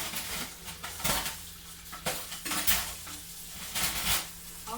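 Silverware and dishes being rinsed at a kitchen sink: running water hisses steadily while metal cutlery clinks and clatters against plates in several sharp bursts, close and moderately loud, with no talking.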